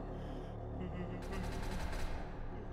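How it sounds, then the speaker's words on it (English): Faint gunfire in the multiplayer game SCP: Secret Laboratory: a quick string of distant shots, partly masked by steady background game noise. "And they're shooting something."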